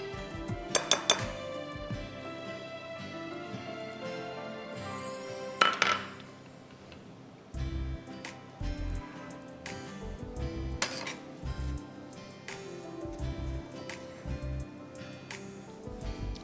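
Pistachios and green colouring mixed in a bowl with a utensil, producing scattered clinks and scrapes with sharp knocks against the bowl, then a run of regular dull taps toward the end.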